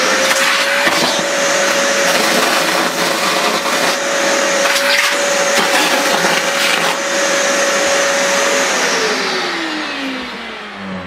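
A Guild 30 litre wet and dry vacuum cleaner runs loud and close with a steady whining motor hum, its pitch sliding down near the end as it winds off.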